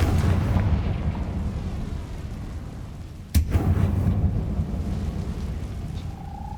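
A Confringo fire spell explodes in Hogwarts Legacy with one sudden booming burst midway through. It rises out of a constant low, rumbling game ambience and is followed by a lingering roar, with no talk.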